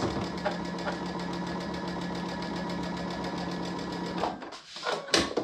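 A sewing machine runs steadily stitching a quilt, its fast rhythmic whir continuing for several seconds before slowing and stopping with a couple of clunks.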